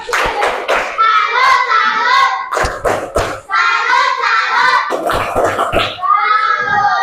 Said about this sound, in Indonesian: Kasih tepuk salut untuk Yolanda